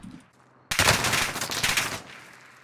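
Automatic AK rifle fire in a truck-round multiplayer game, a dense loud burst of rapid shots lasting over a second after a short quiet lead-in, then tailing off.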